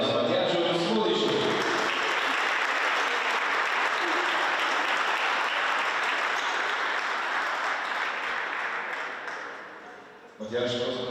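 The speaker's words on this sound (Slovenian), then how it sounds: "Dajte velik aplavz Matjažu Smodišu." Sustained, loud applause from an audience at a youth basketball tournament event in Domžale greets former basketball player Matjaž Smodiš, dense clapping filling the space for around ten seconds before fading, with brief talk at the start and end.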